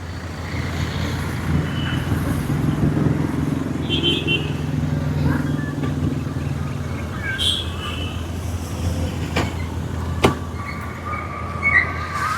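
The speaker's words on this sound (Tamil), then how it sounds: "வண்டி இன்ஜின் போக எல்லாம் சூப்பராக ஓட்டி காட்டுறேன்" A 2012 Hyundai i20 diesel car engine runs steadily at close range with a low rumbling drone, a few sharp clicks and knocks breaking in near the end.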